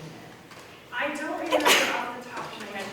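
A single sharp sneeze bursts out midway through, brief and fairly close, while a person is talking just before it.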